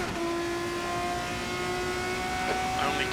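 A race car engine in a racing video game, a steady high tonal whine that holds its pitch, then shifts at the upshift near the end, close and continuous.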